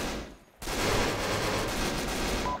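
Sustained gunfire during a military platoon training exercise, a dense, loud burst of rapid automatic shots that starts abruptly after a short lull and continues without a break.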